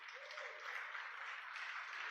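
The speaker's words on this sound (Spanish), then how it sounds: "Dale un aplauso al Señor." A church congregation applauding during a sermon, heard as a soft, even wash of many hands clapping at a distance, faint and continuous with no voices over it.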